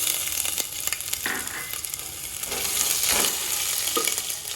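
Whole spices, cashews and ginger pieces frying in oil in a pan for tomato rice, a steady close sizzle with occasional stirring scrapes, no talk.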